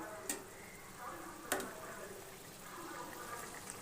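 Fried fish pieces going into a simmering mustard-oil spice sauce, a soft continuous sizzle with a couple of sharp clinks as the fish is added; quiet and close, no speech.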